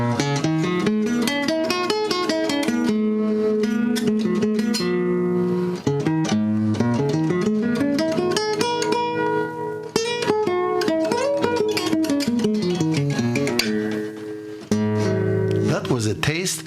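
A hypodorian pentatonic scale played as a melodic run of clear pitched notes, steadily rising and falling, moderately loud with no talking.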